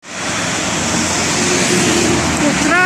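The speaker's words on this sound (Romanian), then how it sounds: "cu trafic, cu zgomot" Dense city traffic rumbles along Bulevardul Unirii near Piața Unirii in Bucharest, a loud, continuous wash of car and bus noise that holds steady throughout, with a voice talking over it.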